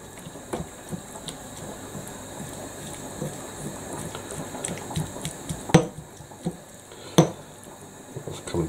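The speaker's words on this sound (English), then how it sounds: "Give that a wee mix up." Lemon and pea pesto with olive oil being mixed in a bowl, giving scattered clinks and scrapes of utensil against the bowl over a low background hiss, with two sharper knocks near the end.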